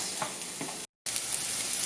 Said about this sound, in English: let the onions soak up a little bit of the oil that was left in the pan